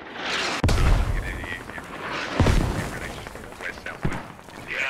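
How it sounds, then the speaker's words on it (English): Mortar rounds land in a military shooter game, three heavy, sharp booms spaced about two seconds apart over a steady rumble of battle, with players talking over radio between blasts. "Mortars are direct front."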